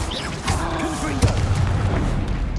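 Confringo fire spell blasting in Hogwarts Legacy, a sharp boom at about one second over a dense bed of game effects and battle noise, with a spoken voice beneath.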